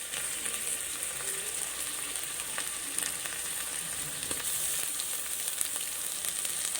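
Ginger garlic paste sautéing in a pan for ghee rice, a continuous soft frying sizzle with faint crackles and occasional light stirring clicks, fairly quiet and with no one talking.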